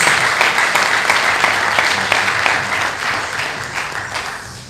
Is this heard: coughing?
no